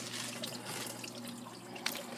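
Water pours steadily through a koi pond's trickle filter system, a soft, continuous splashing trickle heard on its own at low volume.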